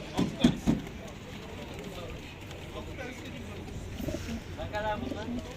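Şekeri Posta pigeons at the Edirnekapı bird market give soft cooing calls among market chatter, with a few louder flutters or thumps at the start and people talking throughout.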